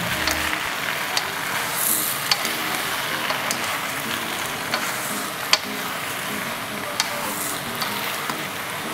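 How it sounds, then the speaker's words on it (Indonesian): Vegetables sizzle and crackle steadily in a hot wok, with occasional sharp pops and scraping stirs, no voices. "Kita menggoreng sampai sayur dia nampak layu."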